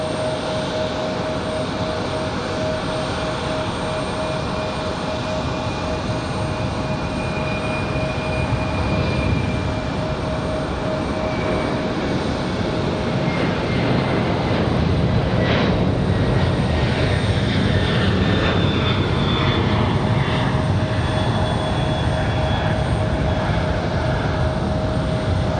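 A FedEx cargo jet takes off at Raleigh-Durham airport with a sustained loud engine roar and a high whine, rising and swelling in the later part, with no voices.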